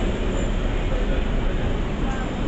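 Onboard a 1938 Tube Stock train running on the Metropolitan Line toward Harrow-on-the-Hill, a loud continuous rumble and roar of wheels and motors filling the carriage, steady throughout with no pauses.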